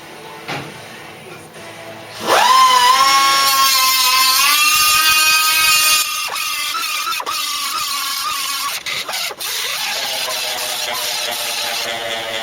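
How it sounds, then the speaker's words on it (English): A power tool whines loudly and steadily as it grinds welds flat on a Cortina GXL during restoration. The high-pitched grinding holds close for several seconds, then eases slightly and continues with small changes in pitch. "we're just going to flat those welds down. Or dress the welds, if you want to call it."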